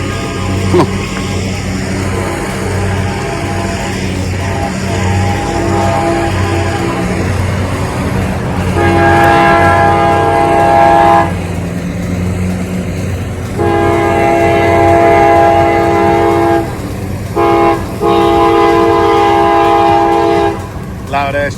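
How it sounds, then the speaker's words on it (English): A loud train rolls past on a walk through town, with a strong horn sounding in long sustained blasts between about 9 and 21 seconds over a steady rumble of rail noise. "Loud ass choo-choo train."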